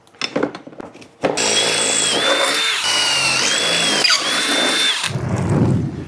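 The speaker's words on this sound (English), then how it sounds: "and drill a hole." Power drill boring a hole while fixing a Craftsman throttle cable, a loud close whine running steadily for about four seconds after a few handling knocks, ending with a rough grinding rumble.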